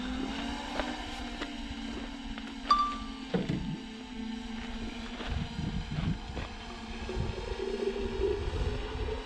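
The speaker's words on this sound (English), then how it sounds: "Got the jet boil going." A Jetboil camp stove roars steadily at close range at an overlanding campsite, its burner hiss and low rumble continuous throughout with a few clinks and knocks on top.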